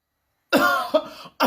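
A single harsh cough breaking out of silence, followed by a shorter second cough and the start of another.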